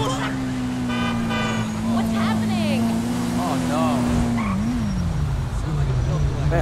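A Kawasaki Ninja H2R superbike in GTA 5 holds a steady, loud engine drone while someone talks excitedly over it, with brief horn-like toots and tyre noise mixed in.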